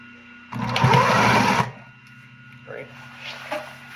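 A sewing machine runs in a fast, loud burst as it stitches a zipper onto a jacket, then stops, leaving a quieter background where someone talks.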